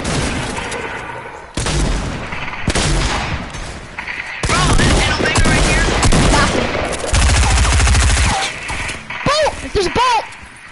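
Bursts of rapid gunfire in the game Fortnite crackle in several loud volleys, separated by brief gaps, with players talking excitedly over the shooting.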